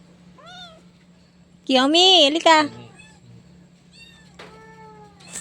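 A cat meows several times near the microphone, one loud drawn-out wavering meow in the middle with shorter calls before and after, over a steady low hum while a person speaks briefly.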